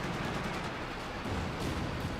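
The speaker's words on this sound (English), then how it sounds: "Got the pack howitzers hitting." Pack howitzer artillery fire in the Company of Heroes 2 video game, a dense, continuous wash of booming blasts and gunfire rumbling steadily throughout, loud and unbroken with no voices.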